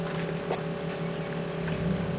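A boat motor drones steadily and loudly close by as the small boat tries to climb a small waterfall, a continuous engine hum with a rushing water and wind wash and no talk.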